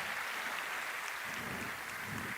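Audience at the 4th UNICORP Faculdades forum giving a big round of applause, a soft, distant wash of many hands clapping, steady and continuous.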